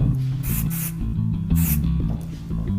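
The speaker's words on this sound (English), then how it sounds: "We're gonna get our dry wax here, spray" Several short hissing bursts of an aerosol dry wax hair spray, loud and close, over a steady low musical background.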